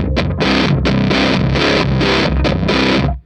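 Electric guitar through a Black Arts Toneworks Priestess fuzz pedal on its first clip setting, a loud, thick, saturated tone played in a run of choppy chords and notes, with no voices.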